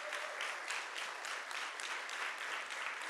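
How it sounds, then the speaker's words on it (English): A council meeting audience gives a round of applause for military and law enforcement personnel, a steady wash of many hands clapping together that holds at moderate loudness from start to finish. "A big round of applause"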